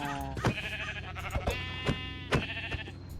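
Sheep in the RLCraft Minecraft modpack give several wavering bleats in quick succession, fairly close and distinct, separated by short gaps with faint background tones.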